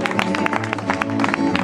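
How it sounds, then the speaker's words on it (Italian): An audience applauds a contestant at a beauty pageant final, Miss La Riviera 2013 in Riva Ligure: brisk, steady clapping from a crowd over background music. "Un applauso per Giulia."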